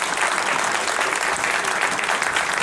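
A room full of people at a gathering gives a sustained round of applause, a steady wash of clapping with no breaks.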